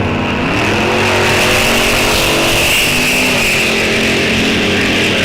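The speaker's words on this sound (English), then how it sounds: "A couple of classics on the starting line. 50 Anglia versus a 41 Willys." A 1950 Anglia and a 1941 Willys launch off the drag strip starting line, loud continuous engine roar rising as both cars accelerate hard, steady and close throughout with no talk.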